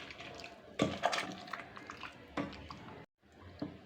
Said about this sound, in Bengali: এই রস এখন একটা সুতি কাপড়ে করে দেব। এখন চিপে চিপে রসগুলা বের করব।